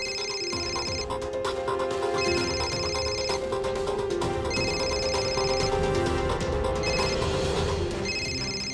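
A telephone rings in repeated electronic bursts with short gaps between them, steady and fairly loud over a busy background of indoor music.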